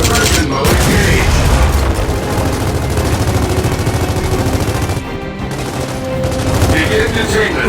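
Loud, dense battle noise from the video game Gears of War 4: a grenade blast merges into continuous gunfire and booms, with a brief lull before the fire resumes.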